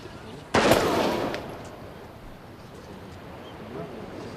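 A single sharp, loud gunshot rings out near the start during guerrilla weapons practice, then tails off in a long rumbling echo that fades into outdoor background noise.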